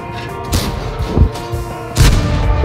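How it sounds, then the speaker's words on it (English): Heavy booming cannon shots from an E-25 tank destroyer in a tank video game, three deep blasts spaced irregularly over a dense, continuous rumble of battle. "The E-25 dashes to the center of the map and starts pumping shells into an enemy column."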